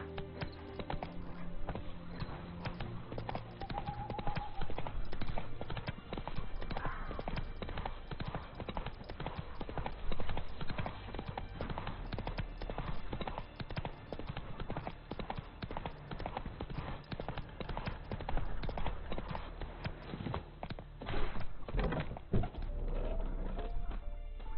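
A horse's hooves trot in the video game Witcher 3 as a steady, rhythmic clip-clop that continues throughout at moderate loudness, layered over game ambience.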